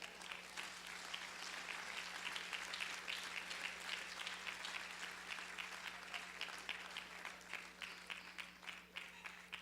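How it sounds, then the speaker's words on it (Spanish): A church congregation applauds in a steady, dense burst of many hands clapping, heard at a moderate distance over a low electrical hum. "Denle un aplauso al Señor."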